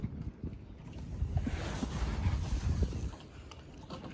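An O'Day daysailer sailboat moves slowly under its jib alone, with soft water wash against the hull and low wind rumble throughout, quiet and calm.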